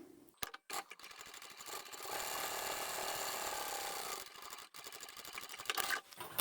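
A sewing machine stitches the bottom seam of a zippered pouch in one long steady whirring run, with short starts and stops of needle clatter before and after.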